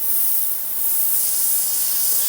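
An airbrush sprays paint on a large Ayrton Senna artwork, giving a continuous, even, close hiss that runs alone for the whole moment.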